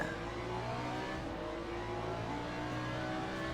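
A Ferrari race car in the sim racing game Le Mans Ultimate accelerates off the start, a steady buzzing engine drone with faint tonal revs and a closely packed field.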